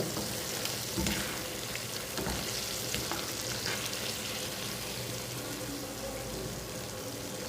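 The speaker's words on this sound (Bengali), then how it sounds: "আর এই মাছ ভাজা হয়ে গেছে গা" Fish sizzles in a pan of oil, a soft, continuous frying crackle with a few light scrapes and clinks, fairly quiet and without talk.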